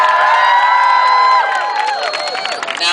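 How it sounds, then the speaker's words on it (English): An audience at a domestic violence awareness event cheers with high whoops and whistling cries over a broad crowd roar, loud and sustained, easing slightly toward the end. "Please give him a round of applause."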